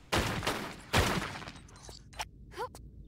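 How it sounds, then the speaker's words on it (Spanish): Gunshots fired at a pile of bones in Tomb Raider, two loud sharp blasts close together followed by fainter clatters and small impacts as the sound dies away. "hay que disparar a todo lo que veamos que se puede disparar"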